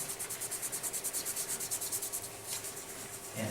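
Chalk rubbed lightly and evenly across a zombie prop to smooth it, a fast rhythmic scratchy rasping of quick back-and-forth strokes, close and soft, with a short pause near the end.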